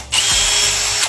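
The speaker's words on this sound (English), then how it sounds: "now I'm gonna drill the holes into the wall connector bracket for the screws to hold it to the wall" A power drill bores holes into a Tesla wall connector bracket, one continuous close, loud whine that spins up fast, holds steady for about a second, then stops.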